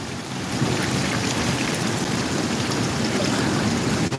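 Storm surge waves break over a seawall at a port in Camarines Sur during a typhoon, a dense continuous roar of crashing water and spray, loud and unbroken, with no voices.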